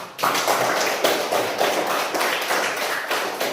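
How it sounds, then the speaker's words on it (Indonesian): A classroom group claps for another group of students, a dense, steady round of applause from many hands lasting a few seconds. "mari kita beri aplaus untuk kelompok"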